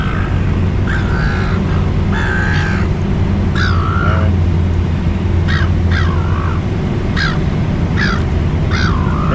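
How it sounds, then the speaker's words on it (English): Seagulls swarm at the Sydney Fish Market, their loud, repeated wavering cries overlapping again and again above constant busy outdoor crowd noise and hum. "I've got about 10 seagulls now. They're coming in like anything."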